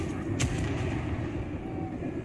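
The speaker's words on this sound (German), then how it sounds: "Erstmal schieße ich hier die Segel weg" Cannon fire in the video game Pillars of Eternity 2, shooting at an enemy ship's sails: a single heavy boom followed by a rumbling, noisy tail.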